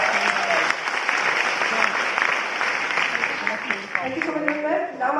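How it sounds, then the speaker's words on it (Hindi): An audience at a health-product demonstration breaks into loud, sustained applause, with many hands clapping together steadily for several seconds and a voice faintly audible beneath. "निकिता मैम के लिए एक बार जोरदार तालियां"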